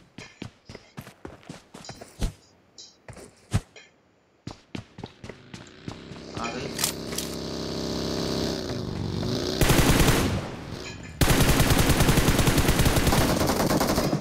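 Gunfire in a battle royale match: scattered single shots early, then denser rapid bursts building into sustained loud automatic fire, with nearby footstep-like thuds between.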